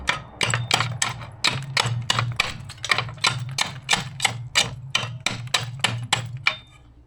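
A roofing slate is trimmed back bit by bit with a slate cutter, producing a steady series of sharp, loud chopping clacks at close range, roughly two to three per second.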